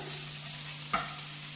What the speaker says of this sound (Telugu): ఇప్పుడు అది అటువైపు వేగుతూ ఉంటుంది కదా